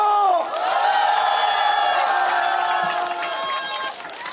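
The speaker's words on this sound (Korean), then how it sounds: "이 앞에 계신 분들, 여러분, 뜨거운 박수와 함성을 주십시오." A large outdoor election-campaign rally crowd in Gongju, Chungnam, roars with loud, sustained cheering and shouting that swells and holds for several seconds, with voices and whoops blending into a dense wall of noise.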